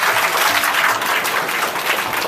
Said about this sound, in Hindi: पहले तो आप एक बार जोरदार तालियां बजाओ इन सभी के लिए।